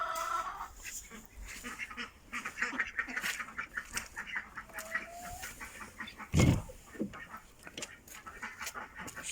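Chickens and ducks in a backyard coop cluck and quack in scattered, overlapping calls, fairly quiet and close, with one louder squawk or flap burst partway through.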